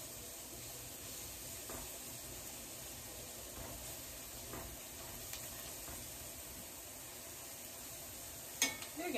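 Ground beef fries in a pan for shepherd's pie with a soft, steady sizzle and hiss, broken by occasional faint stirring clicks and a louder clatter near the end.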